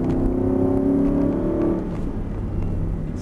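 Race car accelerating on a circuit, heard from the cockpit: a loud, steady engine drone with rising harmonic tones for the first second and a half, then a rougher, broader rumble as the revs change.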